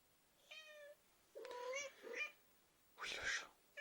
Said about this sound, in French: Oui le chat.